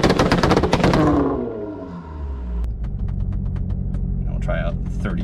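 An Audi S4/S5 3.0T engine held at 3000 RPM on ignition-cut launch control gives loud, rapid stuttering pops that die away after about a second into a low idle rumble with scattered ticks, and a voice speaks briefly near the end.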